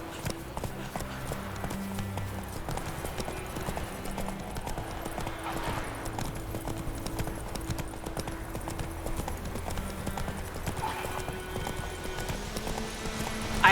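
Horse hooves clip-clop steadily while riding in The Witcher 3, a continuous rhythmic trot under low game ambience and background music, without clear talk.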